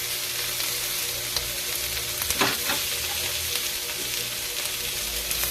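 Onion, garlic and tomato sizzle and fry in a pan for milkfish, a steady close hiss with a brief stirring scrape partway through.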